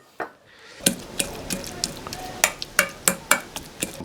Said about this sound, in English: So now those garlic cloves are soft, and I will crush them.